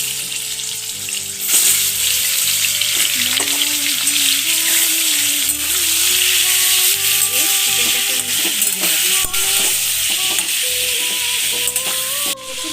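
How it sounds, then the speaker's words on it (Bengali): Marinated chicken fries in a mix of ghee and oil, giving a loud, steady, close sizzle that runs the whole time, with occasional scrapes of stirring. "চিকেনটা আমার ভাজা"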